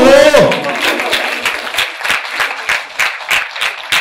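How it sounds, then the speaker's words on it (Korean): An audience breaks into applause, starting with a loud burst and settling into rhythmic, evenly spaced group clapping close by. "박수."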